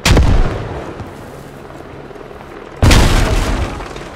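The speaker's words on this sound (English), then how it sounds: "Throwing a frag." Two frag grenades in the game Squad detonate in heavy booming blasts, the first at the start and the second near the end. Each is loud and near, with rumbling decay between them.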